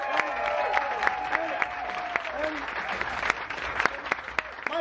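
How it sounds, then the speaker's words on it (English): Audience applause at a semba dance festival, a steady wash of clapping with some cheering and a sustained tone running underneath, fairly full and continuous throughout. "So, applause for Bonifacio"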